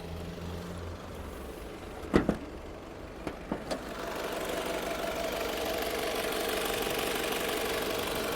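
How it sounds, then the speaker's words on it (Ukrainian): A Honda CR-V engine idles steadily at low volume with a smooth hum, and a few sharp knocks and clicks sound early on. "Мотор працює рівно"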